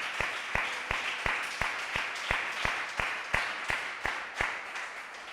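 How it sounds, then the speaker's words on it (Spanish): Church congregation clapping in slow, even unison, a dozen or so crisp synchronized claps in a steady rhythm, loud and close, with no voices over them. "Un aplauso a él"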